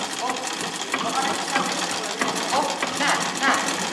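A sewing machine stitches with a steady, rapid mechanical whirr and clatter that runs throughout, while people talk close by over the machine noise.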